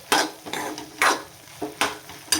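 A spatula stirs dry shredded cabbage stir-fry in a pan on a gas stove, giving four distinct scraping, rustling strokes spaced roughly half a second apart, close and clear with no talk.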